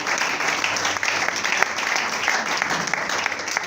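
A church congregation applauds and cheers in praise, loud continuous clapping filling the room from start to finish, with voices mixed into the crowd noise.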